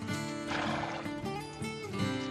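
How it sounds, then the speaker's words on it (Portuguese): Hardy Icelandic horses on a volcanic island pasture neigh and whinny in loud, repeated calls, with hoof clip-clop and a faint musical bed underneath. "Os cavalos nômades da Islândia enfrentaram a tempestade vulcânica e têm seu pasto de volta"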